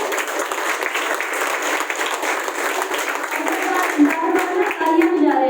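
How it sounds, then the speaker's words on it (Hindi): Audience applause at a live gathering in Karnal, steady dense clapping from a crowd throughout, fairly loud and continuous with no talk over it. "तालियां बजा रहे हैं हम लोग"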